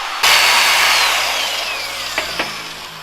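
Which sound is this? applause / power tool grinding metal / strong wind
power tool grinding metal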